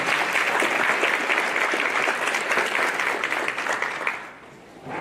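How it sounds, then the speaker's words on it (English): Steady crowd applause at a school district Teacher of the Year ceremony fills the room, dense and loud, tapering off sharply near the end. "let's just give them another round of applause"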